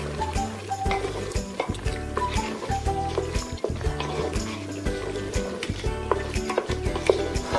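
Chicken being stirred with biryani masala in a pot, giving repeated close scraping and wet stirring strokes in a steady rhythm, with faint sizzling underneath.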